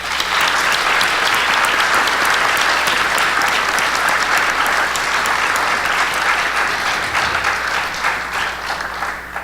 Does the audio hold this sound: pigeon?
no